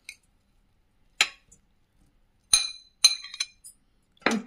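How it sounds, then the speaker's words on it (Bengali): Sparse clinks and knocks of a utensil against a bowl as three vegetables and onion are tossed together for baked vegetables, a few isolated taps then a quick cluster, close and fairly quiet with no talking. "এবার আমি 3টে সবজি একসঙ্গে মিশিয়ে দিচ্ছি"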